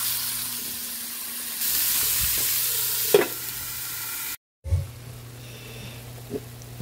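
Pork frying and being stirred in a pan, a continuous close sizzle with occasional scraping clatters and a brief dropout partway, no voices.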